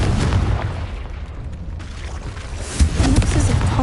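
Hogwarts Legacy Confringo spell bursting in a cave, a loud booming blast that fades into rumbling, then a second heavy explosion near the end.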